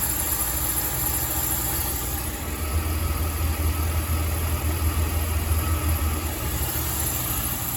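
A Mercedes-Benz E350 W211 with low mileage idles steadily, a constant close engine hum with a low droning undertone and no voices.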